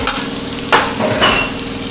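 Chicken and potatoes fry in a pan, a steady close sizzle broken by a couple of brief spatula scrapes.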